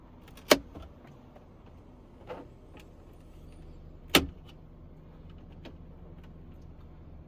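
Trim panels and the HVAC unit come out of a Mercedes ML dashboard with a few sharp plastic clip snaps and clicks, two louder pops among quieter knocks, set against a faint, steady interior hum.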